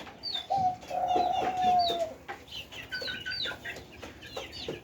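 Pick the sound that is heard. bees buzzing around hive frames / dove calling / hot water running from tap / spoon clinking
dove calling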